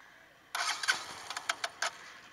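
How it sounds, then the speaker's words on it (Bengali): A Bajaj Discover 125 motorcycle with the carburettor run dry cranks without firing: a burst of starter whirring followed by several short, sputtering pulses that die away, close and without talk. "যদি দেখাই, দেখেন কোনো স্টার্ট নিচ্ছে না বাইকটার"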